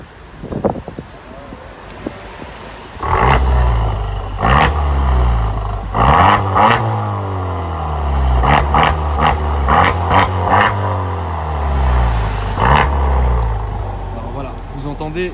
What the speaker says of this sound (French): j'aimerais bien entendre, si ça ne te gêne pas, un peu les pots d'échappement